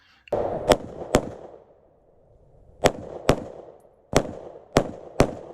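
Pistol shots ring out during an IDPA shooting stage, sharp and loud, coming in quick pairs and triplets with short pauses between strings and a lingering outdoor echo after each burst.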